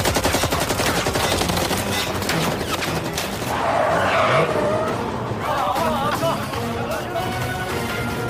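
Film action scene with police ambushed at a dock and sprayed with bullets: sustained dense gunfire and machine-gun bursts mixed with car engines and skidding tyres, loud and continuous throughout, with voices underneath.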